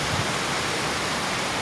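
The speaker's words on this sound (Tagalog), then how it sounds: "Nakita yung ilog yan" A river flows nearby with a steady, broad rushing wash of water, constant and fairly loud with no voices.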